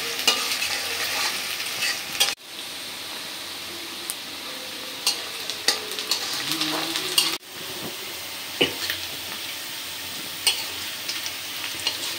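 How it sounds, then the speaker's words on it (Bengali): Onions, green chilies and spices fry in oil until browned, giving a steady close sizzle broken by occasional scraping stirs and clicks against the pan, with two brief cuts in the sound. "তেল, পেঁয়াজ, মশলাটা তেলের উপরে একটু ভাজা নিই, বাদামি করে ভাজা নিব।"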